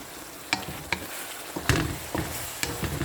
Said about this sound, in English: Give a good stir.